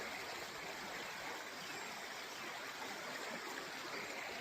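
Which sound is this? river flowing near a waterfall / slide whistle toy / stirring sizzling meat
river flowing near a waterfall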